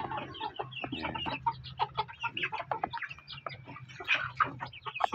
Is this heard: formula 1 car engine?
no